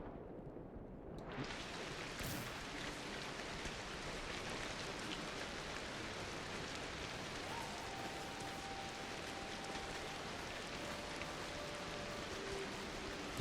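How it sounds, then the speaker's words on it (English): Steady, dense rainfall from Ancestors: The Humankind Odyssey hisses continuously and evenly, with no clear rhythm or variation, while a faint tonal hum drifts in partway through. "I slept while it was raining, and now I think the raining sound effect is just staying"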